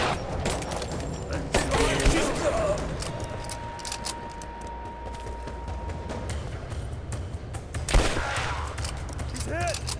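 Gunfire in a Dune House Harkonnen video game rattles in scattered bursts and booms under an ongoing mix of game sound, with a louder cluster near the end; voices can be heard talking over it.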